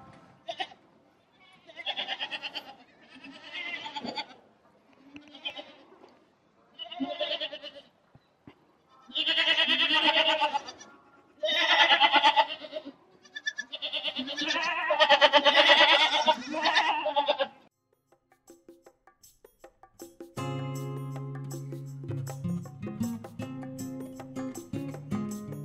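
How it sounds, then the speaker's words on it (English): Day-old baby goats on a farm near Ramgarh, Rajasthan, bleating in a long series of high, wavering cries, several overlapping and close, then quieter, with faint background music near the end. "Just one day born, very young baby goats."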